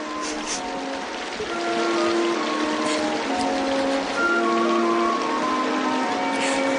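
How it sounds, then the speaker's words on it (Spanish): Steady rain hisses throughout, a constant wash of falling water mixed with gentle melodic music. "Es la lluvia."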